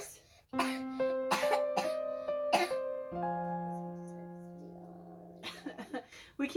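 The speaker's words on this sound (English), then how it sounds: "we keep having to start over because we both got this dry cough" Short, dry coughs come in a cluster of sharp bursts, a few close together early and another run near the end, with a drawn-out voiced sound between them, all close and quiet indoors.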